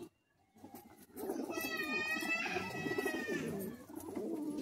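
Caged Madrasi high-flying pigeons coo nearby in rolling, throaty bursts that begin after a brief quiet moment and continue steadily, with a person talking over them.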